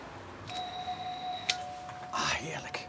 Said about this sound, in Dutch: Ouderwetse bel. Stevige bel.